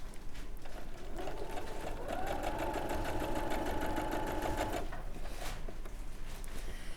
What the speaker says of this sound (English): I'm just going to stitch down these two sides.